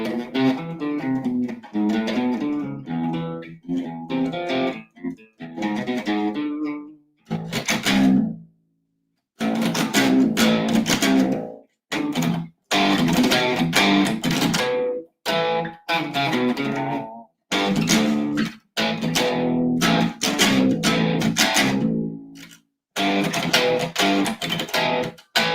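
An electric guitar plays through heavy reverb and distortion in a string of phrases and sustained notes, with short silent gaps between passages.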